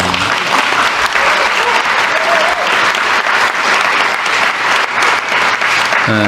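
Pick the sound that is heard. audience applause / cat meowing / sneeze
audience applause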